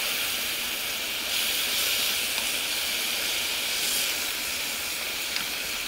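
Hamburger steak sizzling over an alcohol burner, a steady close hiss of frying that holds evenly throughout.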